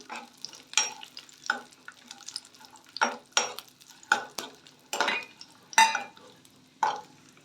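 Almond pieces fry in a pan for carrot halwa, with a soft sizzle under repeated spoon-stirring scrapes and clinks against the metal, close and intermittent.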